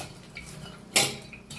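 Salted shredded cabbage salad tossed in a bowl, one sharp clink of utensil against the bowl standing out from quiet, faint scraping.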